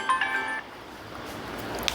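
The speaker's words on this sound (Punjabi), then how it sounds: "ਫੋਨ ਮੰਮੀ ਦਾ ਫੋਨ ਆਂਦਾ ਪਿਆ" A short electronic phone ringtone chimes briefly at the start, then fades into quiet room noise.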